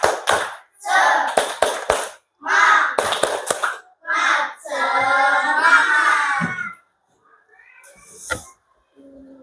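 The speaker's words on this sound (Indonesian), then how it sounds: "kita tepuk semangat dulu" A primary school class performs the 'tepuk semangat' spirit clap, with sharp clustered hand claps falling in a rhythmic pattern between loud chanted group voices, then trailing off into quieter sounds.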